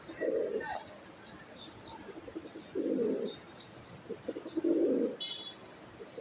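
Three deep, throaty coos from a silver bezi pigeon come in short, separate bursts close by, with faint chirps and light background noise between them.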